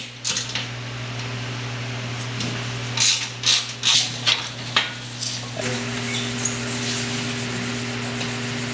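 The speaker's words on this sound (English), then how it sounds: "we're about halfway done on this headlight. We're just in the final polishing stage." Rubbing and sanding on a BMW E36 headlight lens during final polishing, a steady machine drone with a fan hum throughout and a cluster of sharper scrubbing bursts midway.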